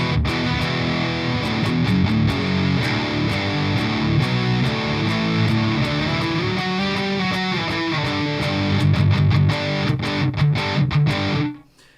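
A heavily distorted PRS electric guitar plays chunky, sludgy riffs through a Revv G120 MK III amp, loud and gritty, with rhythmic chord stabs before stopping abruptly.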